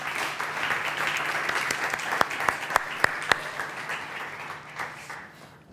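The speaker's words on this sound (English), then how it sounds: "please give a warm round of applause to our two main speakers" At a conference session on data-driven advertising, the audience gives a round of applause for two speakers: a dense, steady roomful of clapping with a few sharp individual claps standing out before it fades away.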